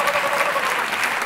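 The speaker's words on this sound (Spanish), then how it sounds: "¡Fuerte el aplauso para ella!" Audience applause after a magic card trick, a dense, steady burst of clapping from a crowd.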